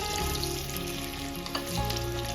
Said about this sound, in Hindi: अब मैं गैस को लो कर देती हूँ और इसके अंदर मैं सारे आलू डाल दूंगी।